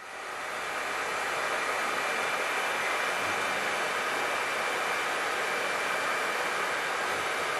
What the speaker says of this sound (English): The plastic sleeve which seals it is shrunk by means of a simple hairdryer.